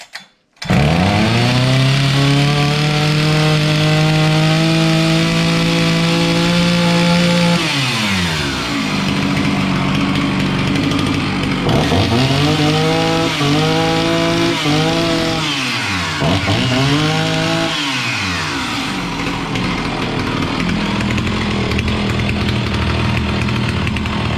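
A Husqvarna 61 chainsaw, just repaired after its engine flooded, starts and runs loud and close, holding a high whine before dropping to idle and revving up and down several times.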